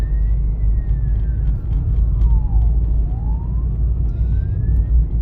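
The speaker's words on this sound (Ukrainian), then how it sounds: "бачимо швидку допомогу, прижимаємось в праву сторону" An ambulance siren wails through city traffic during a driving lesson, its pitch sweeping down and back up as it passes, over a loud, steady rumble of the car and road noise.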